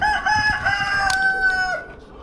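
A rooster on a cluttered farm crows once in a long, drawn-out call lasting nearly two seconds, loud and fairly close, over a faint background of other fowl and outdoor noise.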